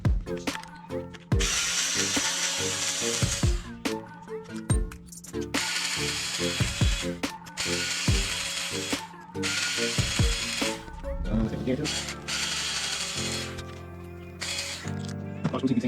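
A small power driver unscrewing the top plate of an Arrma Mojave Grom RC car, repeated short whirring bursts with ratcheting clicks, close up, separated by brief pauses.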